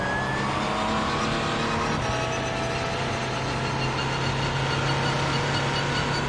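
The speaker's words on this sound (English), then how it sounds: "The car, like we've always said, sounds like it's idling." A race car engine at Sebring in a racing simulator, droning steadily at a low, idle-like pitch with a brief shift in tone partway through, loud and continuous with no voices.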